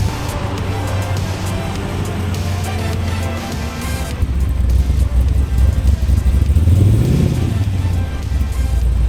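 An LS3 V8-swapped Mazda RX7 cranks and catches with a low, steady drone, then a sharp rev swells and falls near the end, loud and close, with faint voices in the background.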